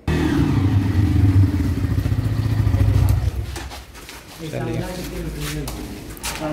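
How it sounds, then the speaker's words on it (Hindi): A Bajaj Pulsar N160 motorcycle engine idles with a deep, throbbing exhaust note, then drops lower briefly before rumbling again; a voice talks over part of it. "एग्जॉस्ट साउंड सुनिए इसका।"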